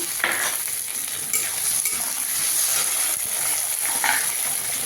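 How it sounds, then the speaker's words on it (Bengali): Chopped tomato fries with onion in a pan, giving a continuous close sizzle broken by a few scraping stirs. "এবার টমেটো কুচি দিয়ে দেবো।"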